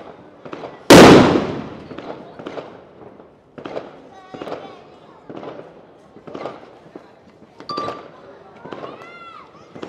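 One loud close blast from Lunar New Year fireworks over a village is followed by a run of fainter, scattered pops and crackles, while people talk and call out between the bursts.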